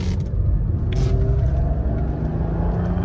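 A Mercedes W124 300E-24 with a rebuilt stroker engine, 3.2 oversized pistons and a rebuilt KE-Jetronic fuel distributor runs at about 30% throttle, giving a loud, steady, close mechanical rumble and drone throughout.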